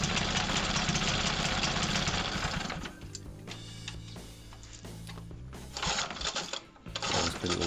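Small vintage engine from a Howard Bullfinch project with its fuel mix far off, running roughly after starting: a loud, close, uneven buzzing chatter that dips and surges, sputtering unsteadily.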